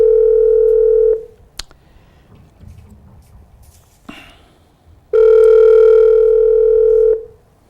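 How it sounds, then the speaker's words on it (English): A loud steady telephone dial tone sounds twice, each lasting about a second or two, separated by a quiet pause with faint clicks. "Jeff, how's the dial tone?"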